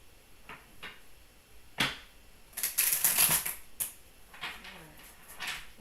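A tarot card deck being shuffled nearby, with a few soft taps and then a longer crisp riffling burst followed by lighter flicks, fairly quiet with no talking.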